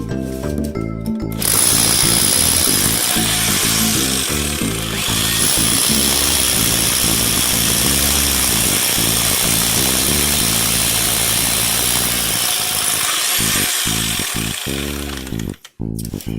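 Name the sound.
power drill drilling holes in concrete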